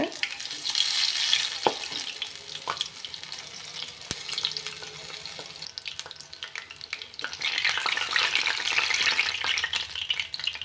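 Chili bajji fry in hot oil with a steady bubbling sizzle, broken by sharp clicks and taps as the fritters are turned over in the pan.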